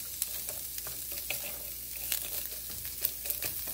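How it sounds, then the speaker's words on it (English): Onions and peppers sizzle in a hot pan, with a steady crackling hiss and occasional sharper pops and stirring scrapes throughout, close and continuous, with no talking. "You can hear them sizzling, because we know our pan was hot enough to get that started."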